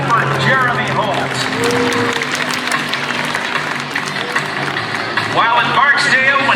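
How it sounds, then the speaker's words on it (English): Crowd applause at the Lake Charles, Louisiana air show for pilot Jeremy Holt flying his Skybolt aerobatic biplane, a broad wash of clapping beneath an announcer's amplified voice, which is heard at the start and end. "A big round of applause. Come on, Louisiana, give it up for Jeremy Holt."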